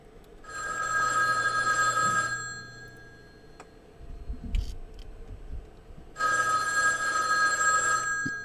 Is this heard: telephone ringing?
yes